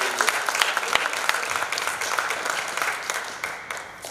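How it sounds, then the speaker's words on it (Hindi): Audience at a kids' school event applauding, a lively, uneven patter of many hands with distinct individual claps popping out over a few seconds. "एक बार जोरदार ताली बजाइए।"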